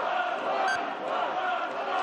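Ukrainian parliament deputies shout "shame" in unison during a vote on opening the land market, a loud, sustained crowd roar with overlapping voices filling the chamber.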